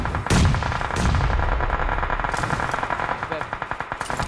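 Rapid automatic gunfire in a battle royale shooter, sustained bursts of fast loud shots with a couple of heavier blasts near the start, continuous and close throughout.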